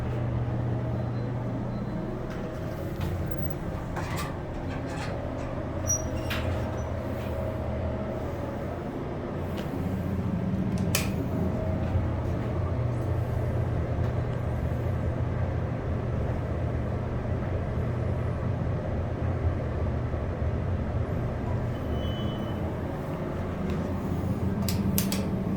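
Inside the cab of a ThyssenKrupp hydraulic service elevator in a university student union, a steady low hum and rumble runs throughout with faint clicks and small mechanical ticks, no talking.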